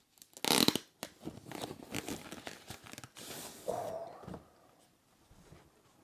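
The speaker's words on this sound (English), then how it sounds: "So I'm gonna unwrap this." Plastic packaging being unwrapped from a new Canon EOS R6 Mark II camera, with loud crinkling and tearing bursts up close, then softer rustles and a brief scrape fading to quiet handling.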